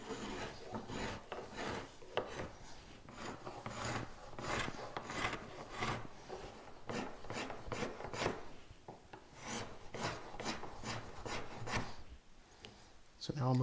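A scratch stock beader is drawn by hand along a wooden molding, making repeated rasping scrapes in a steady back-and-forth rhythm, close and moderately loud, with occasional brief talk.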